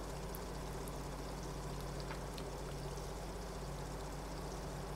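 Water rushes steadily into a trailer in Farming Simulator 22, a quiet, even pouring stream that runs unbroken from start to finish with nothing else over it.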